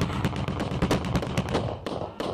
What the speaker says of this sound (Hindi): इधर गन चल रही है